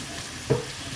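A spatula stirs white flat noodles with shrimp and salmon in a sizzling pan, giving one short scrape over a steady frying hiss.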